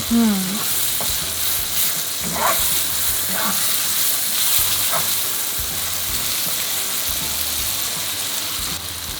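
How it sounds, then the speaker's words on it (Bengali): Ground spices for a duck curry sautéed in oil in a pan, a steady close sizzle and fry with repeated scraping stirs throughout, loud and continuous with no talk over it. "আর এই গুঁড়ো মশলা দেওয়ার পর আমরা কষাতে থাকবো যতক্ষণ না তেলটা আলাদা হয়ে যায় চকচক করে"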